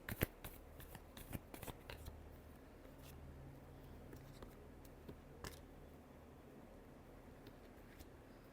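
Tarot cards being shuffled close up, a few quick crisp riffles and snaps at the start, then quiet with faint rustling.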